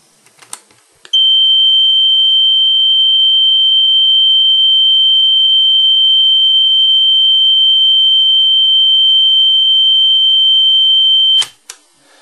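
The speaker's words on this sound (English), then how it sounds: "give you a sample of a Flutter Wow test tape run" Sony WS48B wow and flutter test tape playing on a Realistic CTR-68 cassette recorder, producing one loud, steady high test tone that holds for about ten seconds between mechanical clicks at the start and end.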